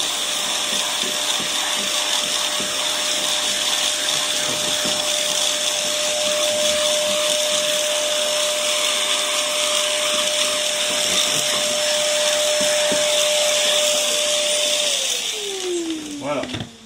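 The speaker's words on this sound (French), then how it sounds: "je reprends mon aspirateur et je remets le petit coup qui va bien" A vacuum cleaner runs steadily over car carpet and upholstery, a loud, constant whine with scraping and bumping of the nozzle before the motor winds down at the end.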